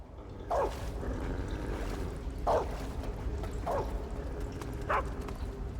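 A guard dog barks in Metal Gear Solid 3: Snake Eater, four sharp, moderately distant woofs spaced a second or two apart over a steady low ambient rumble.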